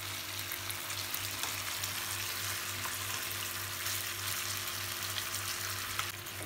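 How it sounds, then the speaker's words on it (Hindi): Tandoori chicken pieces roast in a pan on the stovetop, giving a continuous, even sizzle at moderate level with a low steady hum beneath, no talking. "अब हम दूसरी तरफ से भी अच्छी तरीके से इसको रोस्ट करेंगे। अब हम फिर से दूसरी तरफ से पकाएंगे फ्लिप करके।"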